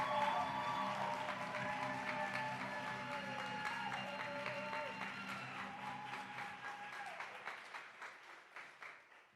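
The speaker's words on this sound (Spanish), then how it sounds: "aplauso." A church congregation in Puerto Rico applauds warmly, clapping beneath a voice and background music, tapering into fading individual claps toward the end.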